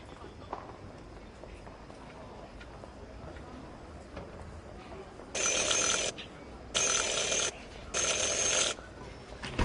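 A service bell in Syberia: The World Before is rung three times, each ring a bright, sustained metallic tone with an even pause between them, over quiet room ambience.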